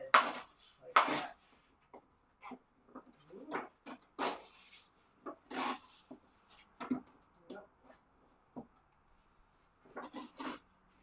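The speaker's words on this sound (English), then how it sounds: "you're just going to tear into that edge like that." Watercolor paper torn by hand along a creased straight edge, giving a string of short dry ripping bursts with pauses between them, close and fairly quiet, no talk.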